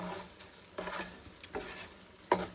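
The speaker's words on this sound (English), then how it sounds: "I'm going to turn it up to medium high, and we're going to toast this rice" Rice toasting in butter in a pan over medium-high heat, a soft crackle with a few distinct scraping stirs of a utensil, close and fairly quiet.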